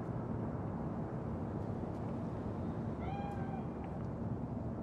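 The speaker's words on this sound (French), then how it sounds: "C'est juste un chat." A single cat meow rises briefly over a loud, steady rumbling ambience in the video game Cyberpunk 2077, faint against the background drone.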